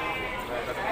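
Sheep bleat continuously among a dense crowd at the Tagog Padalarang sheep market in Indonesia, with loud overlapping calls and people talking throughout.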